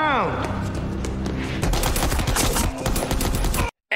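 A film scene with Steven Seagal has a dense fusillade of rapid gunshots that fires almost continuously and loud for several seconds, mixed with shouting and scuffle, then stops abruptly into brief silence.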